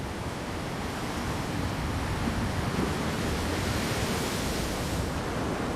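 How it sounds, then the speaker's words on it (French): Waves pound the coast of Española island in a constant, broad wash of surf that swells and settles with a faint windy rush and continues without any speech. "Ses côtes sont battues en permanence par les vagues."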